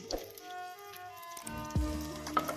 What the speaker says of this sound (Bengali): এরপর আমি তেলের মধ্যে অল্প একটু কালো জিরের ফোড়ন দিয়ে দিলাম।